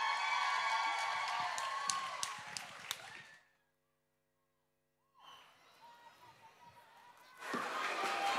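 Audience at a community Christmas carols event at Avondale School applauding the kindergarten children, a crowd of clapping and cheering that fades out to silence and then returns, swelling loudly again at the end.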